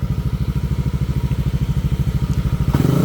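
A Yamaha Aerox scooter engine runs on a dyno, a loud, fast, even pulsing putter that holds steady and then swells as the throttle opens near the end.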